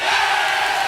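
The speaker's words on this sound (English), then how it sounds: "I think you might be able to hear the team singing." A football team and its fans sing the fight song together after a high school game win, a loud, steady wash of massed voices from a distance across the field.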